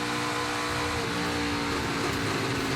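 ARCA Menards Series race car at Kansas Speedway with an engine faltering from a fuel or electrical fault, a loud, close, unsteady engine drone whose tone wavers and shifts pitch over a few seconds.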